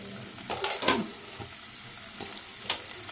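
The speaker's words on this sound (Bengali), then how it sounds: "নাড়িয়ে নিচ্ছি ডিমটাকে মাছের ডিমটাকে আর দিয়ে দেবো কিছু সামান্য টমেটো কুচি" Fish roe frying in a pan with white mustard paste, a low sizzle with a few scraping stirs, louder near the start and fading to occasional soft scrapes.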